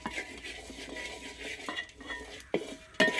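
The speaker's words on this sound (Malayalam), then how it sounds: "ഒരു ബ്രൗൺ കളർ ആവുന്നത് വരെ ഒന്ന് വറുത്തെടുക്കണം" Repeated scraping and clinking of a utensil stirring grated coconut roasting in coconut oil in a pan until brown, with a soft sizzle in the background and sharp metallic knocks near the end.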